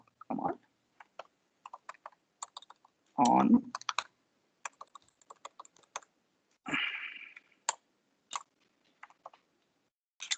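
Someone types on a computer keyboard in scattered bursts of crisp clicks and key taps, with a few louder clattering runs between quieter single presses, close and clear.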